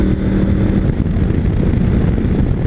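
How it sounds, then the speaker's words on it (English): A Honda Africa Twin Adventure Sports motorcycle with its standard exhaust runs on the road. The engine gives a loud, steady low drone under heavy wind rush. "my bike sounds lovely with the standard exhaust"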